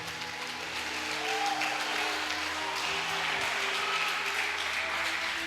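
A church congregation claps in praise during a sermon, producing a steady, moderately distant applause with a sustained tonal hum of music or organ underneath.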